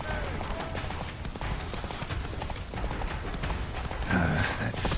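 Hooves of the horse Roach clip-clop at a gallop in The Witcher 3 video game, a steady rapid beat running throughout at close range under game music and ambience, with a brief burst of game voices near the end.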